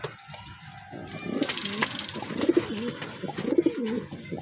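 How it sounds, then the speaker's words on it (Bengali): A pair of pigeons, a male and a female, coo in repeated soft throaty phrases close by, with faint background noise. "পায়রা দুটো ছেড়ে দেবে।"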